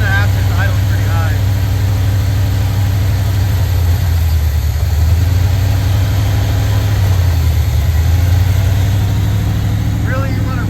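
An abandoned 1977 Chevrolet El Camino, revived after long storage, idles high with a steady, loud, close engine drone whose pitch sags and recovers twice, with brief bits of speech at the edges.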